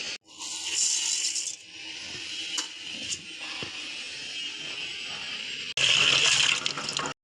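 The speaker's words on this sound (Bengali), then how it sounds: "এনিওয়ে রাইস আর একটু ভালো করে ধুতে হবে।" Rice is washed under running water from a tap: a steady gush fills a vessel, broken by clattering and sloshing, then a louder burst of flow near the end.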